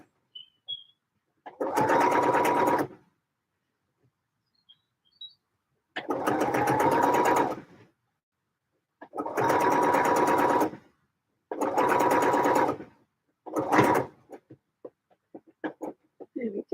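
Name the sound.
sewing machine basting fabric sides into place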